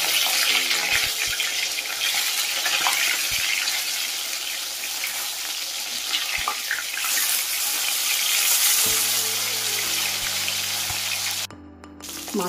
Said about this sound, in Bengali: মাছগুলো দেখতেই পাচ্ছেন ভালোভাবে ভাজা হয়ে যাচ্ছে।